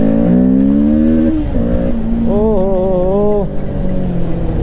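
A Kawasaki Ninja 650 motorcycle accelerating in first gear: a loud, close engine note that rises in pitch, dips at a shift, then climbs again steadily, with wind rush over it.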